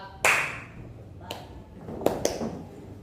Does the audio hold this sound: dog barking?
no